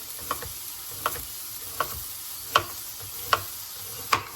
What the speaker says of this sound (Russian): Пассеровали лук с чесноком пару минут.